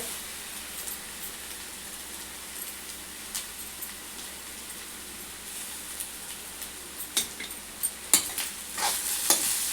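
Tempered rice (popu annam) being stirred in a hot pan, with a steady soft sizzle and a spoon scraping and clicking against the pan, the scrapes growing sharper and more frequent toward the end.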